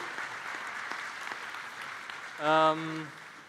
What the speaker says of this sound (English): Big round of applause for Cypher.